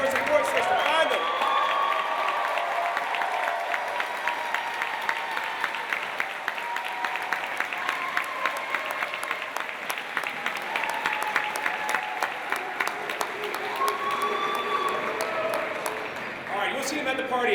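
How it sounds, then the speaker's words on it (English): A graduation convocation crowd at SPIA 2022 applauding steadily, dense continuous clapping with scattered cheers, loud and filling the hall, tapering off near the end. "stand up, give us a roar, and give us a round of applause for your support system"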